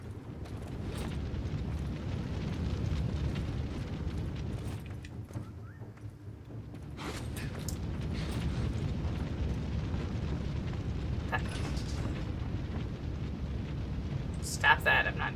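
Fire burning in the Shadow Warrior video game, a deep rumbling roar that swells and dips throughout, broken by occasional sharper crackles and bursts, with faint voices now and then.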